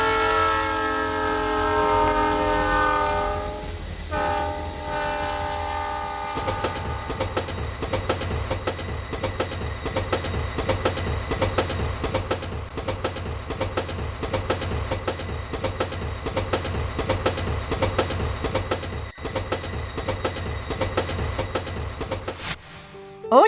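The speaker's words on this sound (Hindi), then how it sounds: "बहुत तेज रफ्तार में ट्रेन चल रही थी" A train travels at high speed, a steady loud rumble with rhythmic rattling of the cars throughout, after a brief opening of harmonic tones, with no talk.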